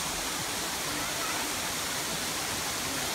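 Steady, full roar of the Girlevich waterfall in Erzincan, a constant broadband rush of falling water close by, with no voices over it.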